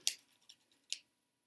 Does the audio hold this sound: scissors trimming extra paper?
yes